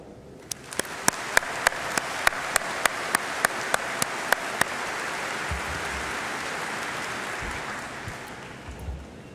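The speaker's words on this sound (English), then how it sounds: "Please applaud" A large crowd at the Fort Hays State University 2015 commencement applauds in a sustained roar, with a run of sharp, evenly spaced claps standing out near the front for the first half before the applause fades and settles.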